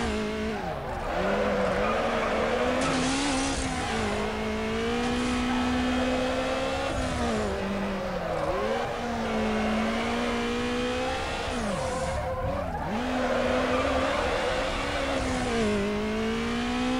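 Race car drifting in Need for Speed Underground, engine droning and revving with rising and falling pitch while tires squeal and skid through long slides, steady and moderately loud throughout.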